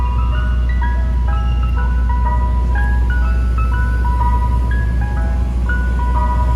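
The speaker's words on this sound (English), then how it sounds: "this is like a very iconic ice cream truck" An ice cream truck's jingle plays in Philadelphia, a loud melody of repeating chime notes over a steady low engine idle, continuous and near throughout.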